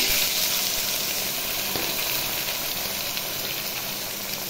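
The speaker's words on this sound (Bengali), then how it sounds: "তেল গরম হয়ে গেছে বন্ধুরা, মশলা দিয়ে দিলাম।" Whole spices dropped into hot oil for a Bengali katla fish curry sizzle loudly and steadily, a dense, continuous hiss of frying that stays close and constant throughout.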